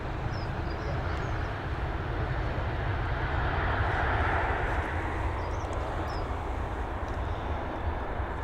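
Scandinavian airliner arriving at Dublin Airport, heard as a steady broad jet roar at moderate distance, swelling slightly midway and holding throughout, with no talk over it.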